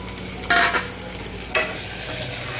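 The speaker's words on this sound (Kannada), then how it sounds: "ಈಗ ಸ್ವಲ್ಪ ಎಣ್ಣೆಯಲ್ಲಿ ಈ ಥರ ಫ್ರೈ ಆಗಬೇಕು." Hyacinth beans (avarekai) fry in oil with a constant low sizzle, broken by two sharp scraping stirs of the spoon against the pan.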